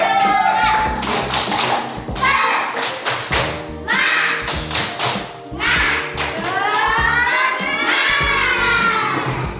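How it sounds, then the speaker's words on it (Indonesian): A group of children clap together loudly and steadily, a dense rapid patter with scattered young voices calling out over it. "Beri semangat untuk kelompok 3. Tepuk tangan."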